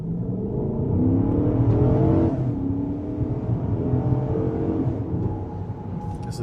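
A 2019 Jeep Grand Cherokee Summit in sport mode accelerating, its engine note a steady, rising drone heard from inside the cabin, loud and continuous for several seconds with no talking.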